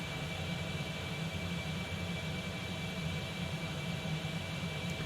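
A Concorde taxiing in the X-Plane 11 flight simulator produces a steady, unbroken jet engine roar with a constant whine layered over it, even and moderately quiet throughout, with no voices.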